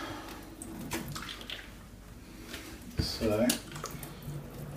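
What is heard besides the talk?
water washing stains off a treated shoe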